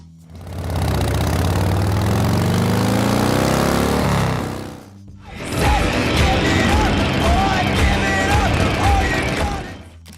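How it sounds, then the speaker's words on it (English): A Harley-Davidson Dyna Super Glide on illegally loud straight pipes rumbles at a loud, close idle, then blips into a brief rev after a short pause. "The exhaust pipes were illegally loud."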